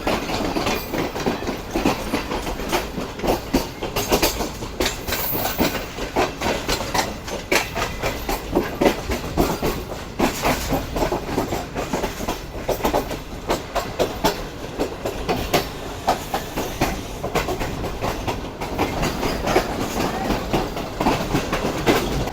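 Rhythmic clickety-clack of express train wheels rolling over rail joints past Khanpur, Pakistan, a sustained loud rumbling clatter with steady beats and no voices, carried on for over twenty seconds.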